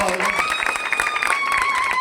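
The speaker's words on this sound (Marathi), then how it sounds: "जोरदार टाळ्या" Clapping from a crowd at the inauguration of a Buddhist vihara in Girye, steady and dense, with a voice or tonal sound running over it.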